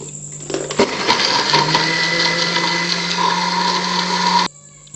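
A kitchen blender whirs loudly as it blends dates and milk into a milkshake, starting after a brief click, running steadily for several seconds, then cutting off abruptly.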